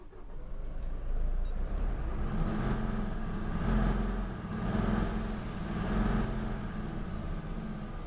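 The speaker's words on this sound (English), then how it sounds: "And there is the sound of the Scania." Scania E400 MMC bus engine in the OMSI bus simulator game starting and running, a steady low diesel drone that swells and eases several times, with no talking.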